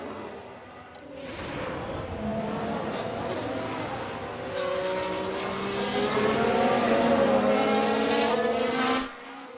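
Formula One race cars from F1 Manager 2022 scream past on track in a 1991 season race, engines rising and falling in pitch as several cars sweep by, loud and continuous.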